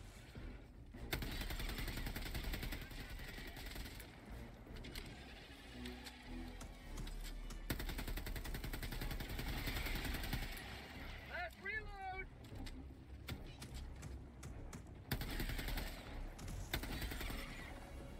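Weapon fire in the video game Helldivers 2 comes as dense, rumbling bursts of shots over a constant loud battle din, with a few sharper cracks standing out and voices heard at times.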